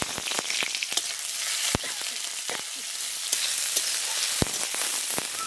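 Finely chopped onions hit a pan of shallow oil with whole cumin seeds, setting off a steady, bright sizzle broken by sharp spatula clicks and scrapes, close and alone with no talk.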